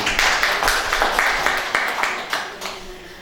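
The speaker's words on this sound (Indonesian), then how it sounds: "berikan apresiasi sekaligus berikan tepuk tangan ya Bapak dan Ibu" An audience at an Indonesian business seminar claps in a steady, rhythmic burst of applause, loud and close throughout, fading slightly toward the end.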